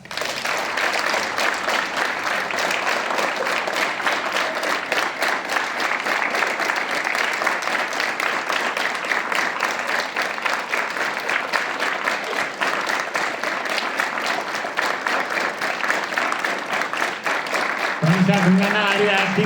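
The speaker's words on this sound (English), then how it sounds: "Hands up. Clap." Students at a school assembly clap together in sustained, dense applause that runs steadily from start to finish, with a voice briefly heard near the end.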